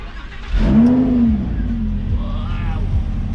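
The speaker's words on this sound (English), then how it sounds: "So let's start the car." A Lamborghini Huracan with stock exhaust cranks and fires up, a sharp rising revving roar that peaks and then settles into a loud, steady idle burble, close by.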